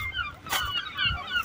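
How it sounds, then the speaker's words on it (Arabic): Several honking goose-like bird calls at the Paris zoo sound in quick succession, fairly faint, with a brief broadband burst in the middle. "اصوات الطيور"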